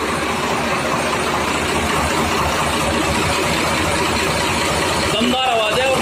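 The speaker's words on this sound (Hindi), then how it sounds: "ये देखो भाइयों दमदार आवाज ट्रैक्टर की" On a farm in a village in Meerut district, a tractor engine runs with a loud, steady, close drone that never lets up, and a voice is faintly audible near the end.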